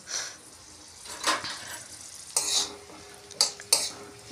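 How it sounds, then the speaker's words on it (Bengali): A spoon stirs fish frying in a pan for fish kalia, giving soft sizzling and a few distinct scraping strokes against the pan, with quieter gaps between the stirs. "আমি হাতা পাইনি, তাই চামচ দিয়েই নাড়াচ্ছি।"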